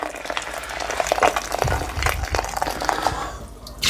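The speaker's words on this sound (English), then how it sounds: "this is the boiling water" Steady hissing, bubbling wash of boiling water being poured for home-brewed bitter in a shed, continuous and close, with faint clinks and bubbling throughout.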